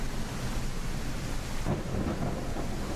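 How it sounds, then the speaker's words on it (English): Thunder rumbles through a stormy sea in Ship Simulator, a steady low roar with wind and rain, deepening into a heavier rumble partway through, loud and continuous with no talking. "I can hear every little bit of wind, every little crack of lightning."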